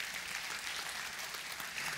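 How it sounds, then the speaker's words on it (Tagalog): Church congregation applauding, a steady, dense round of clapping from a crowd that holds evenly throughout without talk. "Sige nga, pumalakpak tayo."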